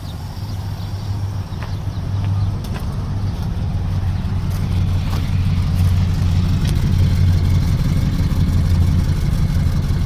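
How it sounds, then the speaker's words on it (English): A 1964 Dodge field find idles smoothly and steadily after starting, its low, even engine note loud and close throughout with no talking. "It's just the most unimpressive engine in the world, but it's just so smooth and perfect and calm and docile"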